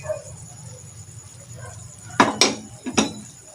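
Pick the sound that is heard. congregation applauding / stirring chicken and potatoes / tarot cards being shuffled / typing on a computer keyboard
stirring chicken and potatoes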